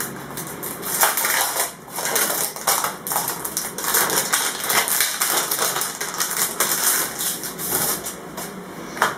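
A packet of scrapbooking cutting dies is torn open up close, giving loud, continuous crinkling and crackling of plastic packaging with sharp bursts of rustle throughout.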